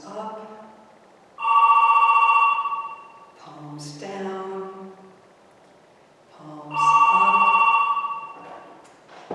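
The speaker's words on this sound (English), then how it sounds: "That's the phone in room 5 upper." A telephone rings in another room during a yoga class, two bursts of trilling electronic rings separated by a pause, sounding under a woman's calm spoken instructions.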